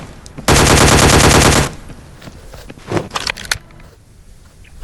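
Automatic gunfire from the ScarFall 2.0 battle royale mobile game bursts in loud and close for about a second, a dense rapid rattle, followed by scattered fainter shots and clicks.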